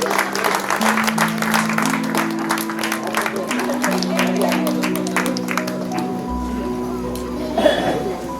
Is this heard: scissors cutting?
no